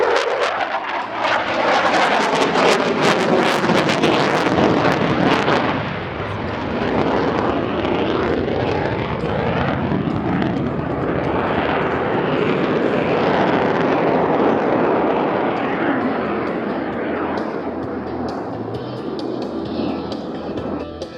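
F-18 Super Hornet jet performing a demo pass at the 2016 Abbotsford Airshow, a loud, sustained engine roar with a shifting pitch as it sweeps past and then fades somewhat near the end.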